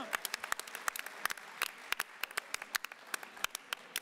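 Audience applause at a union congress in Haute-Garonne, welcoming a guest to the platform: scattered, sharp claps at close range from a modest crowd, with no talk over them.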